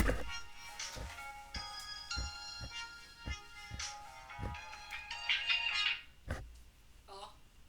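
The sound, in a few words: mobile phone ringing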